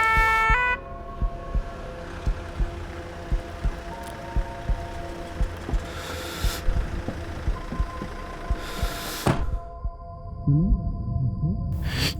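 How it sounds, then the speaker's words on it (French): Fire engine siren sounding steadily as emergency vehicles arrive, its sustained tones layered over a dense traffic rumble with a brief sharp burst near the end. "J'entends la sirène des pompiers, les gendarmes, les secours."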